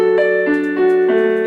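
A piano plays a short legato melodic line, three or four sustained notes flowing into one another, close and fairly loud, with no voice.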